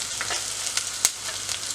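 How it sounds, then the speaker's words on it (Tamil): Onions sautéing in a pan for mor kulambu give a soft, steady sizzle with a few light stirring clicks, close and quiet, with no talk. "வெங்காயம் நல்லபடியாக வதங்கி கொண்டிருக்குது."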